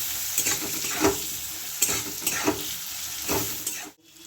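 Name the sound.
stirring raw mango with turmeric and chili powder in a pan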